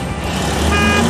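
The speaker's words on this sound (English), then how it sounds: "A paver lays down asphalt evenly to build roads and highways." An asphalt paver engine rumbles loud and close while a steady tonal reversing beep sounds over it.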